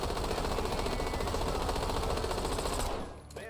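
A Peacekeeper rifle in Warzone fires full-auto in a dense, rapid, unbroken stream of close, loud shots for about three seconds, then stops abruptly, leaving a brief ringing tail.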